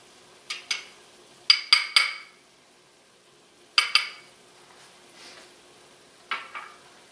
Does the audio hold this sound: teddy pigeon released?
no